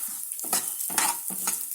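Moong dal is dry-roasted in a pan. A spoon stirs and scrapes through the lentils in three rhythmic, close-up strokes with a soft sizzling hiss.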